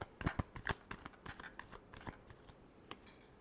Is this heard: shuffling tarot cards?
yes